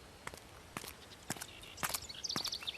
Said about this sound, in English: Footsteps.